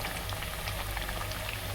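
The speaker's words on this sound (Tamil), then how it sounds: "அப்படியே லைட்டாக மிக்ஸ் பண்ணி அப்படியே பொறுமையாக ஃப்ரை பண்ணுவோம்" Thattai vadai, flat rice-flour crackers, sizzling in hot oil as they fry, a steady dense bubbling hiss close by with no talk.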